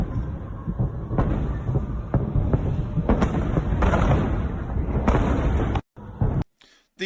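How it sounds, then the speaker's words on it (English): A rocket barrage of MLRS explosions in the city of Belgorod: a rapid series of heavy booms and cracks, rolling and overlapping for several seconds, loud and echoing, then breaking off into short gaps near the end. "The severity of the barrage that we were hearing right there leads us to believe that it is another MLRS barrage"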